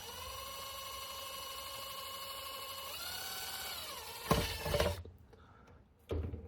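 A power drill whines steadily while boring into a part of a Bally Kings of Steel pinball machine, the pitch rising as it bites. Then comes a loud grinding burst, a stop, and a short final spin.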